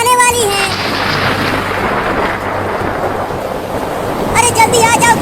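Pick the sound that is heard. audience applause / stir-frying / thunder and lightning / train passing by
thunder and lightning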